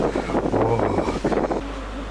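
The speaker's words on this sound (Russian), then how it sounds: "О, какой ветер! О, этот холодный ветер!" Cold wind blowing across an open riverside pier, a steady broadband rush buffeting the microphone with a low rumble, loud and close throughout, with no voices.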